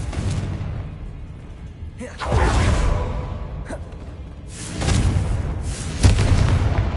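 Video game spell explosions from Confringo and Bombarda burst as three loud booming blasts with whooshing tails, spaced a few seconds apart over a rumbling background.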